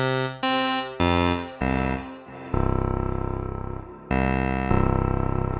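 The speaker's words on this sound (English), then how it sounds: "the really dirty, grimy oscillator sound as you get down there" A Kawai K3 synthesizer playing its digital oscillator waveform with sustain open, a series of buzzy, harmonically rich held notes stepping lower, each starting sharply and ringing on, some overlapping, with no talking.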